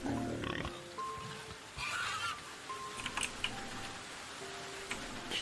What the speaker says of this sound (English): I'm getting chased by an ornery boar